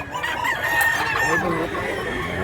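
A golden boy bullstag rooster crows at a farm where chickens are being sold, loud and near, with clucking fowl around it.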